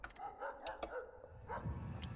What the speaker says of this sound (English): The dogs are out.